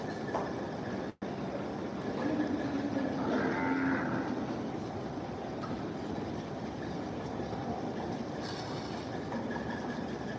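Several small local-breed (deshi) cows low and moo over a steady outdoor rumble, calls drawn out and moderately near, with no one speaking.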